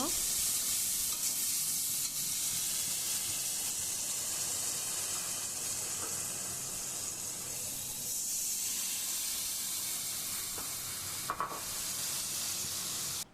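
Ghee heating in a wok for basanti pulao, giving a steady, dense hiss-like sizzle that holds evenly throughout, close and continuous, with a faint clink near the end.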